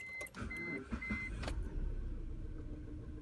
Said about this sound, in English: you try to start this car,